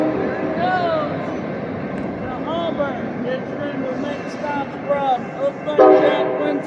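An Amtrak Capitol Corridor passenger train rumbles past up close approaching Oakland station, with repeated horn blasts sounding over the roar, growing louder toward the end.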